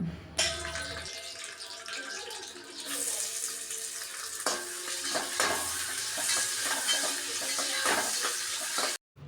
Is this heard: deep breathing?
no